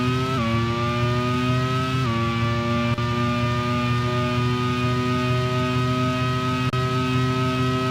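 A racing car engine in a 1991 European Grand Prix race, heard onboard, screams loud and steady throughout, briefly dropping in pitch at gear changes before climbing again, with no talking.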